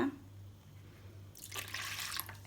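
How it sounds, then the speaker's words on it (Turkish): Milk and water pour into crepe batter in a bowl, a soft trickle that swells into a brighter splashing stream partway through, faint and close with a low background hum. "sütümü ve suyumu ilave ediyorum"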